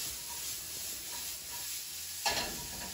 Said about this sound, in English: So we do is get a quick saute.